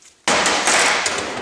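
A sharp metallic strike from a hammer tapping a staked-in U-joint on a Honda CR-V driveshaft, one loud close impact that rings on briefly after a short silence.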